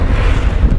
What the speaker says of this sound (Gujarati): ઓ પવન તો જો કેટલી સ્પીડમાં આવે